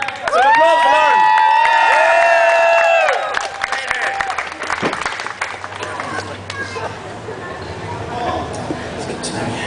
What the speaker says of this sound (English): Can we have some applause for Lauren?